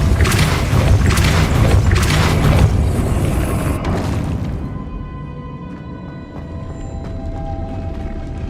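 A Depulso spell cast in Hogwarts Legacy lands as a loud, dense boom with a crashing rumble, then settles into a quieter mechanical hum with faint clicks and tones.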